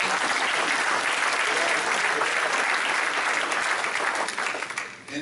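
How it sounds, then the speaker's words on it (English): Roughly three hundred people at a community education summit in Leesburg, Florida clap together in a full, steady round of applause that fades out over the last second. "give yourselves a big round of applause"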